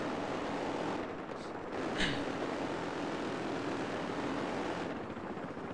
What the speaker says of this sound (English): I'm in the helicopter, Sam.